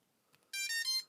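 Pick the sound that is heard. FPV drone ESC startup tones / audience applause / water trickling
FPV drone ESC startup tones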